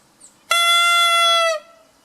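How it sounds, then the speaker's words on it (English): A single bright, buzzy squawk lasting about a second, a clarinet reed sounded alone in its mouthpiece, loud and close with quiet around it. "That's the sound of the reed in the mouthpiece."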